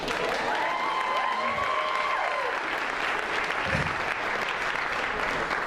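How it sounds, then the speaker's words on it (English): Wedding guests clap steadily after a toast at the reception, a dense, sustained round of applause from a room full of people with faint voices mixed in. "I'll need you all to clap"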